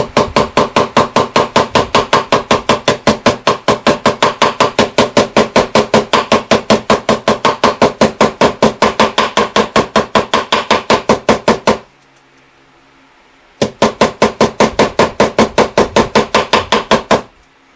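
Rapid, evenly spaced metallic hammer taps as frets are hammered into a guitar fretboard, repeating for a long run, a short pause, then the fast tapping resumes, loud and close.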